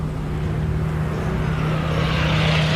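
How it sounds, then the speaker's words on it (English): Two P-47 fighter planes diving through clouds, a continuous roaring engine drone that swells louder with a rising whine, steady and close. "a pair of P-47 fighters drop through the clouds"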